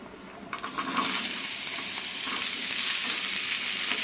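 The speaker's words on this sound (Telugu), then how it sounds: "కొంచెం ఒక సుక్క నూనె వేసుకొని ఉల్లిగడ్డలు వేయించుకుందాం" Onions frying in a little oil for Telangana-style tamarind chutney, a bright, even sizzle that swells after a clattering start and holds steady close by.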